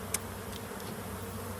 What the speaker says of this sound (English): So we got a package of bees right here.